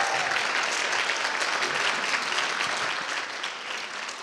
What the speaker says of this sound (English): So let's give a round of applause to Adrian Jolly, Abby Brooks, and Chelsea Nichols,